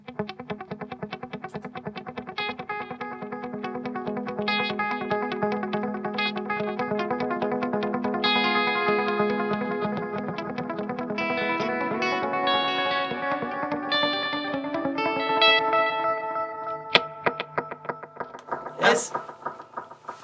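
An instrument played through layered delays, a quarter-note echo stacked on a second tempo-synced delay, so repeated notes smear into dense overlapping echoes. It runs steadily and fairly loud for about twenty seconds and ends in a few sharper hits.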